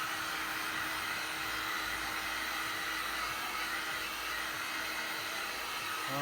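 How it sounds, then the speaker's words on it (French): A heat gun blows steadily while warming the adhesive of a motocross graphics decal kit, a continuous even airy roar with no pauses and no talking. "moi j'ai un décapeur thermique mieux. On va chauffer délicatement l'adhésif sans le cramer"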